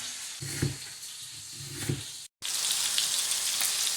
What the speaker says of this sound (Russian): это ж свинина жарится